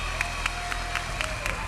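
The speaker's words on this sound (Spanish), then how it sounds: "me gustaría que todo el mundo le diera a regalar este aplauso de respeto para estos muchachos" A crowd at a dance show claps in a quick, steady rhythm of sharp, fairly faint hand claps over a low, constant room murmur.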